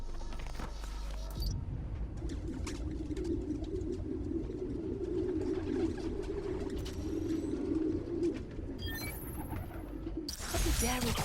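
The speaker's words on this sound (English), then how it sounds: "Place was swarming with pigeons." A flock of pigeons coos in a park in the video game Spider-Man Miles Morales, a steady, dense, low burbling chorus that runs for about nine seconds over soft ambient background noise.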